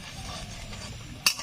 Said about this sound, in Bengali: ঢাকা দিয়ে কিছু সময় জাল করার পর ঢাকনাটা খুলে নিলাম